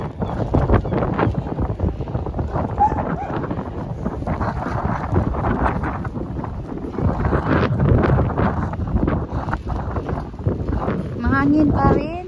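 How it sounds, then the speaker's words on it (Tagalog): Gusty outdoor wind buffets the microphone with a steady, loud rumble while people talk nearby on a street during an evening of window shopping. "Mahangin pa rin."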